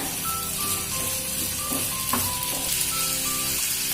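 Tomato sizzles and fries steadily in a hot pan while capsicum rice is being cooked, a continuous close crackle with faint stirring.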